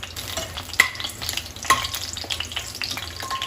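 Cinnamon sticks, cloves and cardamom pods fry in about four tablespoons of hot oil with a steady close sizzle, broken by a few light clinks of stirring, and no voices.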